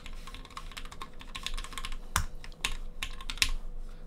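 Close, crisp keystrokes on a custom mechanical keyboard, typed in an uneven rhythm with a few louder, sharper clacks standing out among softer presses.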